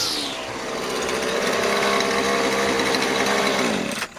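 A repaired Husqvarna weed eater's small two-stroke engine runs with a steady buzzing drone close by, rising slightly before cutting off at the end, no talking.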